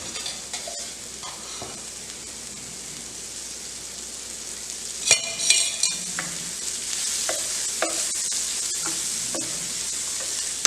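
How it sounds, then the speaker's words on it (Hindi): Onions sizzle in refined oil in a pan for Schezwan Maggi, a steady crackling hiss broken by intermittent scrapes and knocks of stirring. "प्याज हमारे हल्के ब्राउन होने लगे हैं।"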